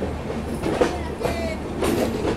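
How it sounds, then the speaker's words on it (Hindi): An Indian Railways Bandhan Express train running through Bangladesh, heard from on board as a close, steady rumble with rhythmic wheel clatter and a few louder bursts. "हम लोगों की इंडियन रेलवेज की ट्रेन बांग्लादेश में चल रही है"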